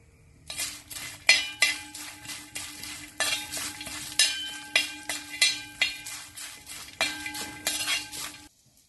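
Spices and salt stirred into a cornflakes snack mixture in a pan, a close, steady series of metallic spoon scrapes and clinks against the pan in a repeating rhythm, no talking.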